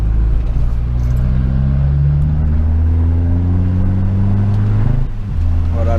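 Abarth 165 hp hatchback with an open free-flow exhaust and no valve, burbling loudly at low revs in normal mode, a deep steady drone with slight rises and a brief dip near the end.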